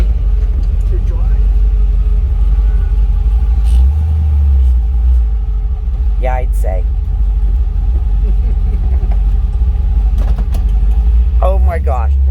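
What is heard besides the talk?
1936 Cadillac rat rod car driving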